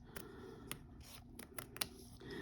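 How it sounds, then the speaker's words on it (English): Singer embroidery scissors cut through fabric in several crisp, close snips, spaced unevenly over a couple of seconds against a quiet background. "So to cut the fabric, that was super easy."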